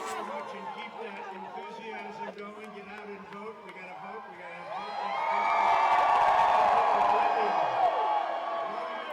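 A rally crowd chatters and shouts, then swells into loud cheering and whooping midway before easing slightly, with a nearby voice talking over the first half.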